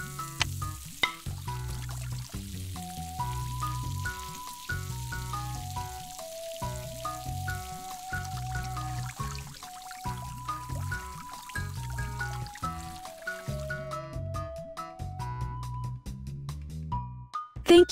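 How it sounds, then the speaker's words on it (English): Water streams steadily from a hose in a kids' mobile science game where the dog's dish must be filled, a soft continuous hiss running beneath loud, bouncy background music for the whole stretch. "Move the hose and put objects on the wall to create a path for the water to reach the dog's dish."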